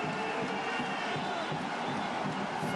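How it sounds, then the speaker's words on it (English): A basketball arena crowd at a FIBA game roars in one dense, continuous wash of cheering and shouting, loud and steady throughout with no clear breaks. "this crowd has done a fine job creating an atmosphere here"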